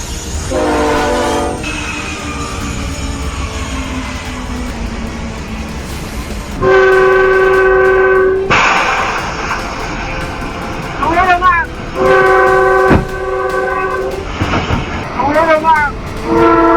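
A train rolls past at a crossing, its horn blasting several times in long and short bursts over the loud rumble of the cars.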